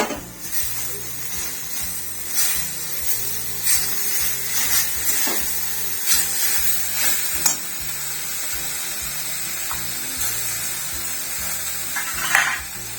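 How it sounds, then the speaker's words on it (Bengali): Grated coconut goes into a pan of frying carrots, giving a steady hissing sizzle broken by the scrape and clatter of stirring at irregular intervals, close and continuous, with no talking. "আমি এবার নারকেলটা দিয়ে দিচ্ছি"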